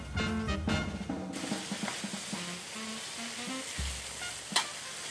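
Tomatoes sauté with pork in a pan for Kapampangan ginisang sitaw, sizzling and crackling steadily close by, with scattered clinks and stirring scrapes and no talk.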